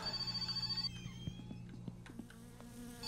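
An electronic telephone in the video game My Summer Car rings in a rapid buzzing trill, then stops, leaving faint clicks and a low background hum.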